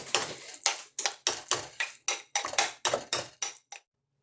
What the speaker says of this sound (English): And now we're going to stir all that up.